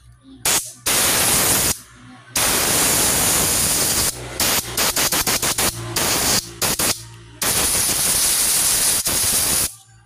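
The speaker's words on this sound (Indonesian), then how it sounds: "Kita semprot aja guys menggunakan angin kompresor." Compressed air from a workshop compressor blasts onto a Yamaha Mio J scooter fuel injector in repeated loud hissing bursts, some long and steady, others short rapid puffs, with no talking.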